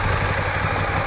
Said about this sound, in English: This is your bike at idle.